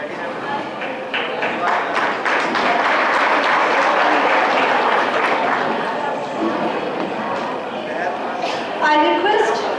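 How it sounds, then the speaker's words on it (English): Sustained applause from an audience at a school annual day celebration in India, loud and steady throughout with a few voices and cheers mixed in near the end. "Please give them a big round of applause."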